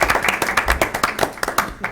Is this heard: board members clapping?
yes